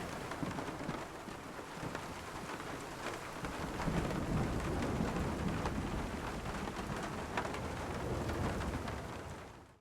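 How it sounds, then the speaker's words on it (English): Rain drums steadily on structure roofs while sheltering in an estate in the video game Nightingale, a dense, even patter that swells slightly midway, with low rumbling beneath it. "it helps to add to the cozy vibe when you're sheltering from the rain in your estate"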